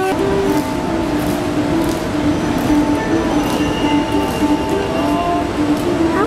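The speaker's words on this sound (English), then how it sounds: "Currently on the peach tram, it's really, really steep." The Hong Kong Peak Tram climbs its steep track, a steady rumble of wheels on rails with squealing metallic tones running throughout, close and continuous without talk.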